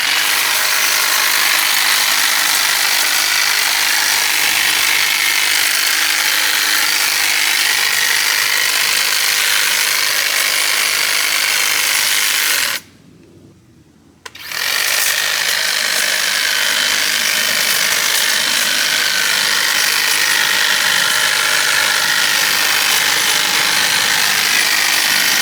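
An EGO HT2411 brushless cordless hedge trimmer with a 24-inch blade cuts a hedge, its blades buzzing loud and steady with a brief pause partway through before running on again.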